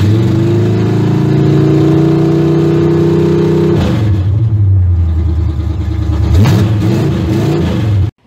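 A Camaro engine is held at launch RPM in a steady, loud droning rev, then drops and blips back up before cutting off abruptly near the end, with no talking.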